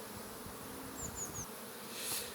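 Honeybees buzz around an open beehive while wax is scraped away, a faint steady insect drone with a few thin high whines from bees passing close, no voices.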